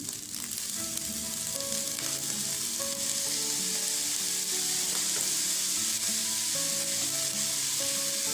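Fish sauce hits fried rice in a hot pan, giving a steady loud sizzle with stirring scrapes, while soft background music plays and no one speaks.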